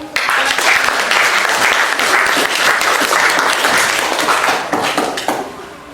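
A classroom of students claps together in brisk, dense applause for nearly six seconds. It is close and steady, then tapers off at the end.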